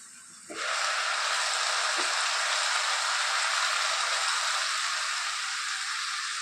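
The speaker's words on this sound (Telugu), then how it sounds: "ఇలాగా ఒక 2 మినిట్స్ మగ్గించుదాం." Cauliflower and dry fish curry simmering in a pan, giving a steady, loud broadband hiss and sizzle that starts abruptly and holds evenly throughout with no talk.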